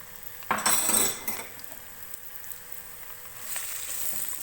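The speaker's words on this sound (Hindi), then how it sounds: "प्याज को हमें गोल्डन ब्राउन करना है।" Onions fry in hot oil in a pan while being stirred, with a steady sizzle and a brief burst of scraping near the start.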